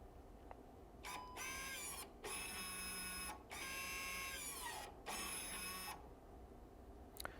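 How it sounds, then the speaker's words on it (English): A Volkswagen electric brake caliper motor runs a self-test, whirring in four short, high, buzzing bursts separated by quiet pauses, close and fairly faint. "we could just test the caliper functionality"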